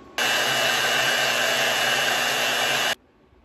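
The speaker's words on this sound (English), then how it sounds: "So now I'm going to take it to the bandsaw and cut it off." Bandsaw cutting off a machined WWII bayonet button made on a CNC mill and lathe, a loud, constant whirring roar that starts abruptly, runs for about three seconds and cuts off.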